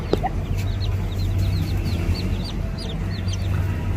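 Hens cluck in a home yard, a run of short, repeated clucks over a constant low background hum, fairly close, with no talking.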